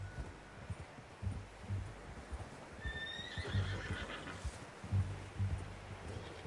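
A horse in Red Dead Redemption 2 whinnies once in the middle while hooves clip-clop in an uneven rhythm, fairly quiet with soft rustling in the background.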